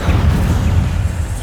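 An Incendio fire spell cast in Hogwarts Legacy, a short loud whooshing rumble of flame with heavy low body lasting just over a second.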